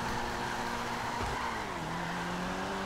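An Annis 300R sports car engine in a video game roars steadily up close, its pitch shifting as the tires squeal through a drift.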